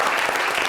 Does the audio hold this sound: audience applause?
yes